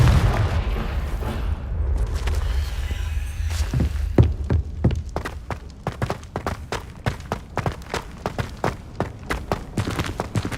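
A Confringo blasting spell goes off in Hogwarts Legacy, a deep booming explosion under a low rumble, followed by a run of sharp, rhythmic thuds and impacts like quick footsteps or strikes.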